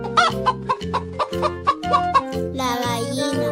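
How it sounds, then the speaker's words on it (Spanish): A farm hen clucking in a quick, regular run of about eight short clucks, then a louder, drawn-out squawk at the end. The calls are close and clear, with no talk. "La gallina."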